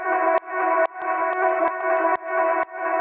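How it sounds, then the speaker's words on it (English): Reverse vocal effect in a house music track made in Ableton: sustained, swelling vocal-like tones with a steady layered texture, broken by regular sharp percussive hits about every half second, played alone without talk. "The second thing I added was this reverse vocal, and it sounds something like this."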